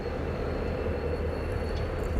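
CSX freight train moving through a rail yard in light snow, a steady low rumble and rolling rail noise that holds at a constant level throughout, with no voices.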